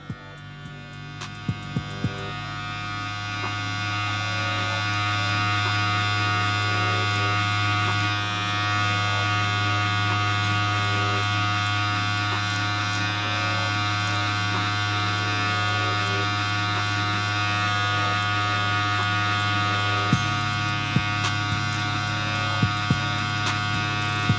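Electric hair clippers with the lever fully closed cut dreadlocked hair during a self-taper, giving a steady close buzzing hum throughout with a few faint clicks and taps.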